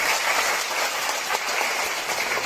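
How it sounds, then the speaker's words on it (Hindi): Sustained applause from a crowd gathered at a Nishad Party regional office event in Lucknow, a dense, steady wash of clapping with no gaps and no voices over it, filling the whole stretch. "एक बार पुनः जोरदार तालियों से स्वागत होना चाहिए साथियों।"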